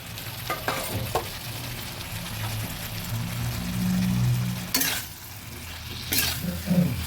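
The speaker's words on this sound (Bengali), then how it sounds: "এবার আমি ভাজা সবজিগুলো দিয়ে দিচ্ছি মূলো আলু শিম" Fried radish, potato and beans stirred in a pan for a winter-vegetable fish curry: a steady close sizzle with soft stirring and two sharp utensil scrapes against the pan, no talking.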